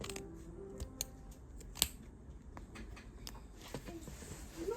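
Scissors cut through fabric for a sewn zipper pouch, with sparse crisp snips and a sharper cut near the two-second mark over a quiet room hiss.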